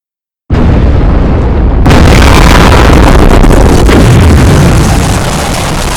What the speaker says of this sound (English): Do I drop the bomb now?